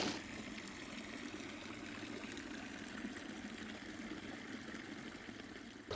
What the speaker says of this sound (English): So this is our Aria Fountain that we have here.